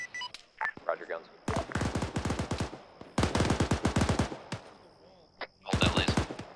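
Long bursts of rapid machine-gun fire from a gun run in ArmA 3 rattle in three separate strings, each a fast, loud volley, with a steady electronic tone and radio chatter in between.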